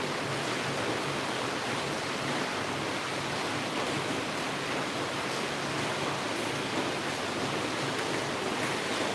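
Rain falling outside as a steady, even hiss of broadband noise that holds constant throughout, with no voices.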